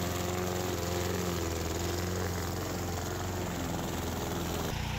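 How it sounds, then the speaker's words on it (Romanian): A lawn mower engine cutting and chopping vegetation, a loud continuous motor drone at close range throughout, ending in a brief change of tone. "am hotărât să tundem, să tocăm vegetația cu o mașină pentru tuns gazonul"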